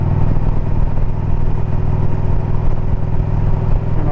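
A motorcycle pulls hard under acceleration, its engine loud and close with a dense mid-range roar and mechanical clatter, sustained steadily with no voices.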